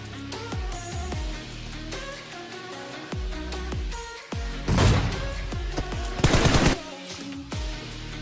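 Gunfire rings out in a shooter video game: a series of sharp single shots with ringing tails, then two dense bursts of rapid automatic fire, loud and close.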